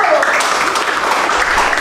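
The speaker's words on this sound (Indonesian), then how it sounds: "Tepuk tangan untuk kelompok 1." A classroom group receives a short burst of dense clapping from students, loud and close, lasting under two seconds.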